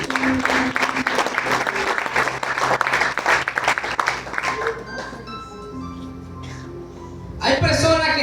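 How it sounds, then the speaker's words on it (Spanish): A church congregation gives a dense burst of applause for several seconds that fades away, followed by quieter room sound and a voice speaking near the end. "Denle un aplauso al Señor."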